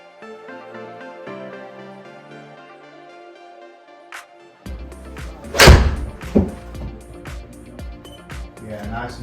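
A golf ball is struck with a graphite-shaft club on a practice range, one sharp loud impact followed by a second knock, after quiet tonal music with people talking around the shot.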